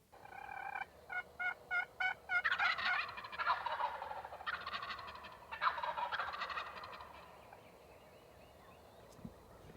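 A wild turkey tom gobbles in an open field, a loud rattling burst after a few quick clucks, followed by more rolling gobbles close by before the calls fade to quiet.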